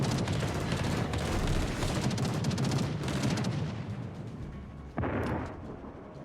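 Naval gunfire from World of Warships, a dense barrage of cannon blasts and explosions rumbling continuously for several seconds, then thinning before one sharp new burst near the end.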